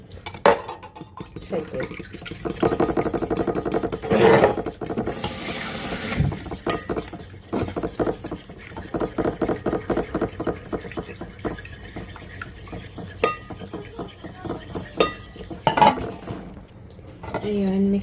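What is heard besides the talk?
mixing egg in a bowl with utensil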